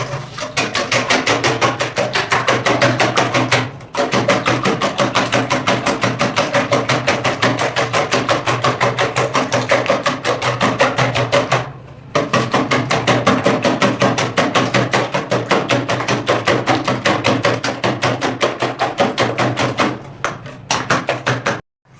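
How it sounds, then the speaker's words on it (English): A whisk beats cake batter by hand in a bowl, making fast, rapid-fire ticking strokes that run in long even bursts, broken by three short pauses. "So I'm going to start whisking it till it's fluffy."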